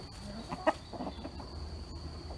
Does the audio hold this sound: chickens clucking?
yes